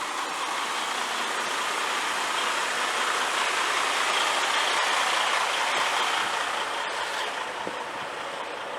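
A vehicle engine left running on a residential street, a steady broadband rumble that holds at an even loudness from start to finish, fairly close and continuous, with no voices.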